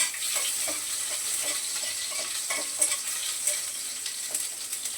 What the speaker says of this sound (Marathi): कांदा परतून घेते चांगला